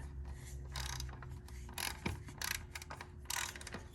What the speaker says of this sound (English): so I'm just tightening here. This is just the side-to-side bracket.